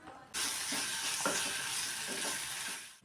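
Onions, tomato and green chili sizzle and fry in a pan while a spoon stirs them, giving a steady hiss broken by faint scraping taps. The sound is quiet and close.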